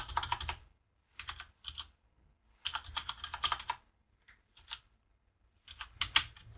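Code is typed on a computer keyboard in quick, close bursts of rapid clacking keystrokes separated by short pauses, with no voices.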